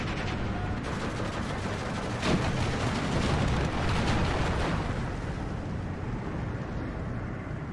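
Steel Division 2 battle audio carries dense, continuous rumbling gunfire and artillery, with distant booms blending into a loud, unbroken wash of combat noise without speech.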